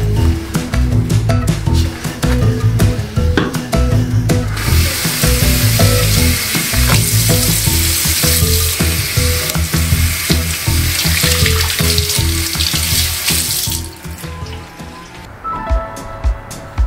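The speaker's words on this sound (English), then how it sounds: "I'm going to use a car wash brush to speed up the process, and it's been working really nicely, and I just love how fast it can scrub everything" Car wash brush scrubbing, a steady, loud hissing rasp lasting about nine seconds over continuous background music, then stopping.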